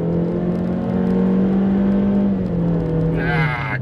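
A 2020 Honda CR-V engine held at full throttle in economy mode gives a steady, loud, droning hum close by. The pitch holds nearly flat and sags slightly near the end, with no talking over it.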